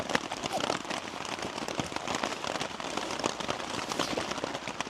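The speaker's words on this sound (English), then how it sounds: "Could we tame the rain a little bit?" Steady rain pelts surfaces on a cycling tour stop in Saaremaa, Estonia, a dense, continuous patter of close drops with sharp individual splats throughout.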